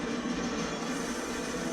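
Train rumble from an anime episode, a steady, loud rolling roar of rail cars that fills the whole stretch without breaks and with no talk over it.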